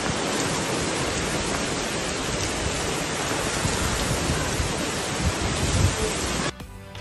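Heavy rain pours steadily during an outdoor football session, a dense continuous hiss, loud and close, with no talking.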